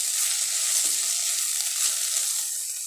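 Garlic frying in a hot pan for home-style pepper chicken, a steady, close hiss of sizzling oil that holds evenly throughout with faint stirring clinks and no talk.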